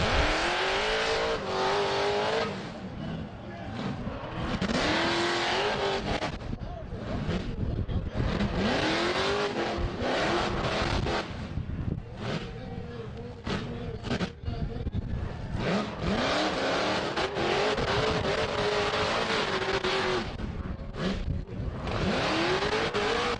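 Off-road rock bouncer climbing a steep loose hill, its engine revving hard in repeated surges as the wheels spin, loud and continuous with short dips between bursts.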